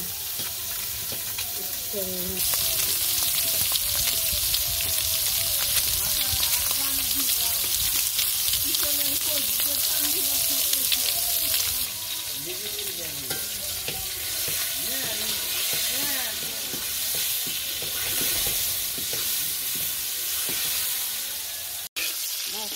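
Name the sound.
food frying in a pan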